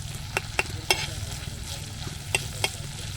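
Pav bread warming in butter in a pan gives off a soft, steady sizzle, broken by a few sharp clicks and scrapes as the rolls are moved about.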